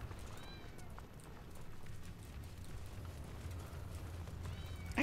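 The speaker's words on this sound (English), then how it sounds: "There's a kitty here whining and crying about nothing." A house cat meows and whines in short, faint cries at the start and end, set against low rumbling background noise, with no clear speech.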